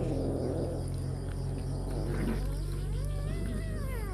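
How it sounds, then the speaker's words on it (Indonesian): A newly adopted cat gives a few drawn-out meows over a steady hum of background noise, close and fairly clear near the end. "Itu kucing baru kita pungut, dia harus merasakan nikmatnya ikan."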